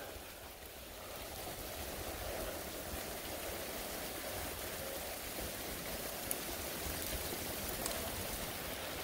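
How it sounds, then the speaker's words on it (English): Steady rain falls during a thunderstorm at the Jemez hot springs, heard from under a rock overhang as a continuous even hiss with faint patter, moderately close and unbroken by talk. "watching the rain come down"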